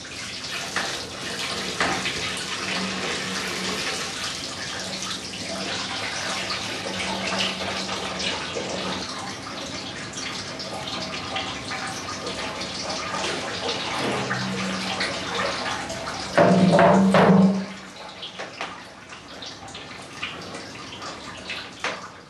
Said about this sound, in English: After every pressing, the big cauldron is refilled.